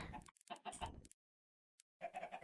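Blocky Minecraft chickens clucking in quick bursts, a short gap of silence and then another cluster of clucks, fairly close and clear.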